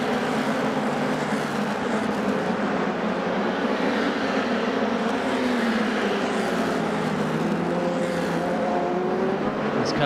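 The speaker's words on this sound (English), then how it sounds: "Cars getting up to some serious speed, probably about 130, 140 miles an hour" Formula-style race cars from the MRF Challenge speed along the back straight during free practice, a steady high-pitched engine drone holding loud and continuous with rising and falling pitch as cars pass.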